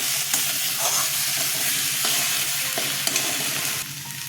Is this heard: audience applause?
no